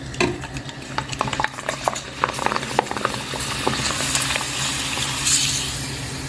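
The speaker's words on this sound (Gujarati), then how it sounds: "આ આપણે થોડું જાડું કરીને એ પણ ઉમેરી દઈએ છીએ અને એ પણ તળી લઈએ છીએ" Sabudana-potato papad fry in hot oil, giving a busy, crackling patter of bubbling and sizzling that holds steady throughout, close up and with no speech.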